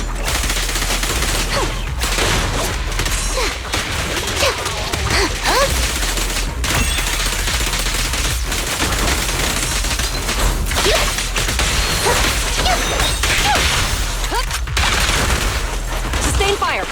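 Sustained gunfire and bursts of automatic weapons fill a Zenless Zone Zero battle, loud and continuous with scattered booms and whooshes, while faint voices come through underneath.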